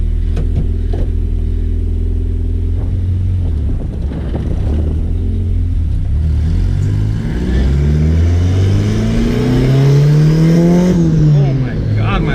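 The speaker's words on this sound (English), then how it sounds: "I'm just gonna do a second gear pull." A loud, close car engine pulls hard through second gear, its rumble climbing steadily in pitch as revs build toward the top before easing off, with a faint voice underneath.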